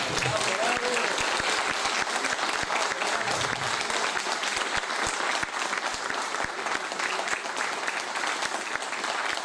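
Sustained applause from an audience after a talk, a thick, even wash of many hands clapping at full strength for several seconds, with scattered voices mixed faintly into it.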